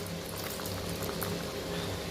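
A pot of dried fish curry, karuvadu kuzhambu, bubbles at a steady simmer, a faint continuous seething with small pops and no talk over it.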